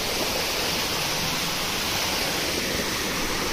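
Water flows steadily near the Chatikona Pataleswar Shiva temple in Rayagada, Odisha, a dense, even rushing hiss like a small waterfall or stream, close and constant, with no talk.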